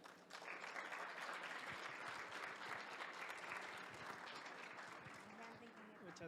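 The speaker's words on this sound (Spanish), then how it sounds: "Recibámoslo con un fuerte aplauso" Audience at a talk on thermal and anticorrosive protection applauding to welcome a speaker, a dense steady round of clapping that holds for several seconds and tapers slightly at the end.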